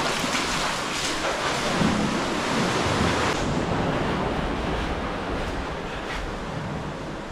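Ocean swell at high tide surging into the Gruta do Amor sea cave in Arraial do Cabo, a steady loud wash of surf with wind buffeting the microphone and no voices.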